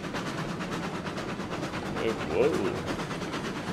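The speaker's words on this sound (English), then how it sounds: "Not a bad looking little train there." A Cooke locomotive rolls along in RailRoads Online with a steady, dense rumble and faint rhythmic clatter that swells slightly midway, while a man's brief exclamation sits over it.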